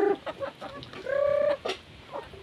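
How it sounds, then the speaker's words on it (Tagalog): A hen clucks nearby in short, uneven bursts, with one longer drawn-out squawk in the middle, over quiet outdoor background. "Magdakop si Riri sa manok kay mag-ihaw daw mi sa manok."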